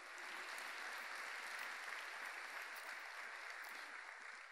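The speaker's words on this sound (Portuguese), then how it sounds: "Vamos aplaudir o Senhor." A church congregation claps steadily throughout, dense and loud applause filling the space from start to finish with no voices standing out.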